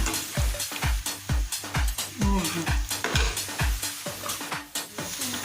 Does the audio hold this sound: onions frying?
yes